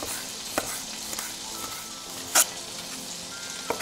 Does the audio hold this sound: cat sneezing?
no